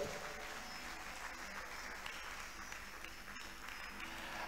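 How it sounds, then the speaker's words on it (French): A church congregation claps together in praise, a sustained, fairly faint and even patter of many hands. "Let us clap for the Lord."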